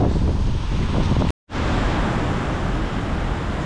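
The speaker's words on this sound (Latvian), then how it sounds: "Un vējiņu pūš." Steady, loud mountain wind in the Alps roars and buffets against the microphone, briefly dropping out to silence before resuming just as strongly.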